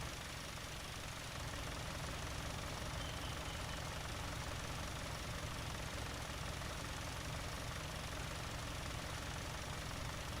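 A tractor engine runs steadily in a farming video game, pulling a seeder and fertilizer setup; the low, constant engine drone holds at an even level throughout with no talk.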